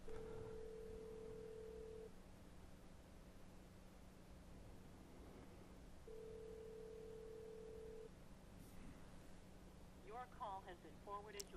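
Phone call left unanswered, with steady ringback tones repeating at long intervals over a faint line hiss, a short burst of chatter near the end.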